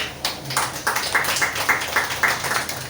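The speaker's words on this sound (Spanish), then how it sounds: "Dale un aplauso" A church congregation claps in a steady, even rhythm, with close, crisp hand claps repeating for a few seconds and no talk over them.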